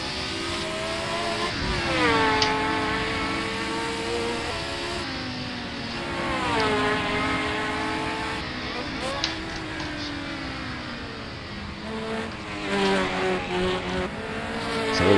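A Lotus 72D race car in a video game on the Nürburgring, its engine loud and close, pitch rising and falling through gear changes and revving, with brief tire squeal and no talk.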